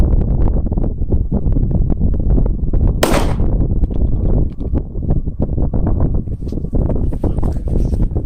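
A Wilson Combat 1911 pistol fires at an outdoor range with a 10-round magazine, loud sharp reports landing in quick irregular bursts across the clip, one crack standing out brighter than the rest.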